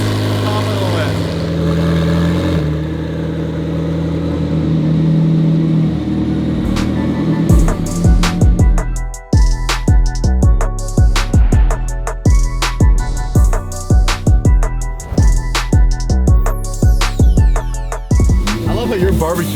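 A freshly wrapped, multimillion-dollar Lamborghini sits rumbling at a low idle, then pulls away with loud engine revs and a rapid series of sharp crackling bursts, close and dominant, with voices nearby.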